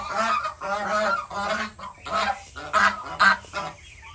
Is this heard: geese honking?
yes